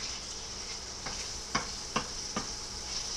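Beef liver frying in a pan for Hungarian stew, a steady close sizzle broken by four or five evenly spaced scraping stirs, with no one speaking.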